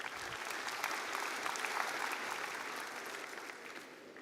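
Sustained applause from an audience at a Faculty of Science graduation ceremony, a dense, even patter of many hands clapping that tapers slightly toward the end.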